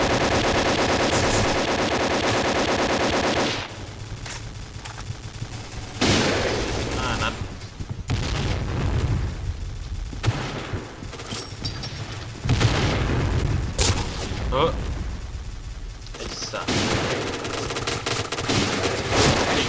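AK-12 rifle fire in the shooter video game Point Blank: loud, rapid automatic bursts and heavy booms that dominate throughout, with brief lulls between volleys amid busy in-game action.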